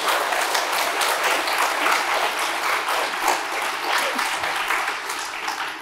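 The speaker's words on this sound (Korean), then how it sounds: "한번 해보라고 응원의 박수 합니다." Sustained audience applause at a Korean talk-show style lecture, dense and steady throughout, a crowd clapping in encouragement without talk over it.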